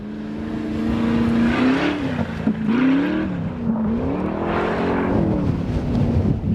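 A rear-wheel-drive budget car, either a G35 or a Mustang, drifts on a track, its engine revving and surging up and down in pitch, loud and close, with tire noise and no talk.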